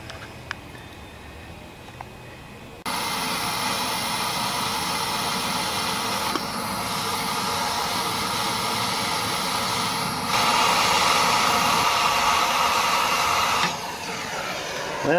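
A metal part is heated before bending during a riding lawnmower engine swap from a Kohler Courage to a Briggs and Stratton opposed twin; after a quiet start, a loud, steady roaring hiss begins and continues unbroken for the rest of the clip.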